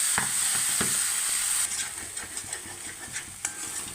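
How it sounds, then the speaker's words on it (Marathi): Onion and ground masala paste fry in oil for mutton rassa, giving a loud hissing sizzle that eases off as a spatula stirs with soft, repeated scrapes. "मसाला व्यवस्थित असा भाजून घ्यायचा आहे त्याला तेल सुटेपर्यंत"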